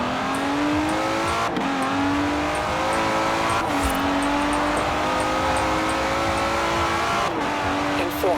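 Aston Martin Vantage S engine driving a race track in Forza Horizon 4, a steady loud drone with rising pitch through the gears, sharp drops at each shift and occasional tire noise throughout.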